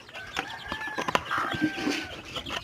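Chickens and their chicks on a Filipino farm cluck and chirp close by in short, overlapping calls over a faint background murmur.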